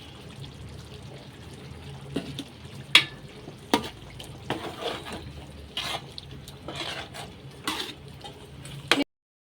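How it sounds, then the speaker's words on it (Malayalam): Masala mixture for chicken biryani being stirred in a pan, with a spoon scraping and clinking against the vessel in irregular taps over a soft frying sizzle, close and moderately quiet, no talking. "എല്ലാം ഒന്ന് നല്ലോണം ഒന്ന് ഇളക്കി ഒഴിച്ചെടുക്കാം"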